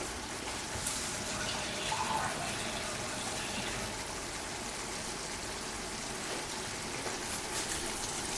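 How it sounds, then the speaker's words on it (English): Water pours into a pan of savoury mince made with ground beef, a steady, close trickling and gushing wash of liquid running continuously with little change in level. "I'm going to add in a bit more water"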